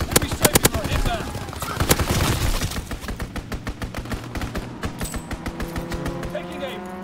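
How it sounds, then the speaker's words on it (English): An aircraft strafing run in Call of Duty WW2 lays down close, loud machine-gun fire. The shots come in tight rhythmic bursts that keep going to the end, and voices call out over the shooting. "Enemy strafing run inbound!"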